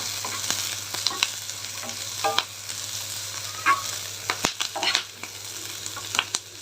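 Ginger for a Rayalaseema-style vegetable soup fries on medium flame, a soft constant sizzle broken by repeated clinks and scrapes of a spoon stirring in the pan, with no talk.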